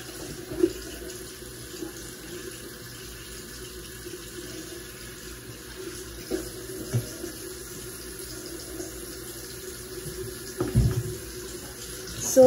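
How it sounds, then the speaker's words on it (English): A tap runs steadily to rinse something off at a sink, a continuous close hiss of water with a few faint clinks and knocks, and no talk over it. "I will clean this off with some water."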